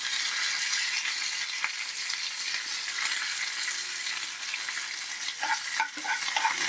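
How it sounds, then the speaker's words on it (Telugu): Mustard seeds, cumin and curry leaves crackle and sizzle in hot oil in a pan for a Telugu tomato dal tempering, a continuous bright frying hiss with small pops and a stir or rattle near the end. "దోరగా వేయించుకోండి"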